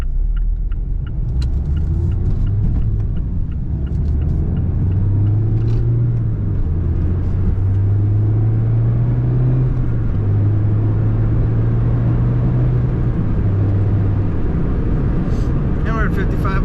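Interior hum of a 2019 Mazda MX-5 Miata Club convertible accelerating on a dry road, with a low engine drone rising gradually in pitch under steady road rumble.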